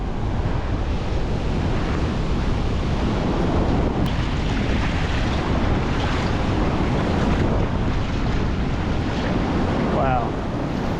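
Continuous surf washes where a river runs into the ocean on Dominica, broadband and steady throughout, with heavy wind buffeting the microphone and no voices.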